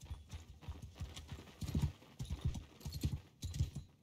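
Horse hooves clip-clopping in rapid, rolling bursts as mounted archers charge in a Mount & Blade 2 Bannerlord battle, the galloping fairly close and loud, with no neigh standing out clearly.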